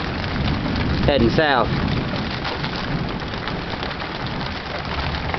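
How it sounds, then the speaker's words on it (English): Heavy rain from a late summer storm pours down as a dense, continuous hiss, loud and close, with a low rumble beneath and a person speaking briefly over it. "It's still raining its ass off."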